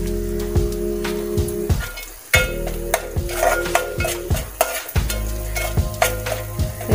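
Onions fried on medium flame until reddish in a pan for spicy Malvani chicken masala, with a pinch of asafoetida added; steady sizzling runs throughout under repeated scraping stirs and spoon knocks, with a brief quiet gap midway.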